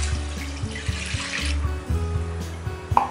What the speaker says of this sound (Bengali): 2 কাপ পরিমাণ আমি জল দিয়ে দিচ্ছি।